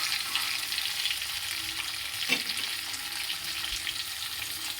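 Eggs fry in a pan with spices added, giving a steady, close sizzle and crackle that holds throughout, with one brief stirring clatter partway through and no voices.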